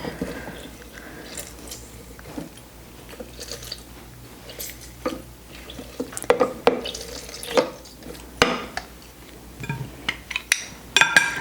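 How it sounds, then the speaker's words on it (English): Lime juice squeezed by hand into mango salsa, heard as wet squishes, drips and soft crunchy pressing sounds, irregular and close. The sounds grow louder and busier in the second half. "To that we're going to add the juice of 1 lime"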